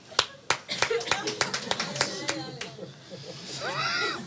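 A single person claps alone, about a dozen sharp, unevenly spaced claps that fade out, followed by a brief squeaky sound at the end.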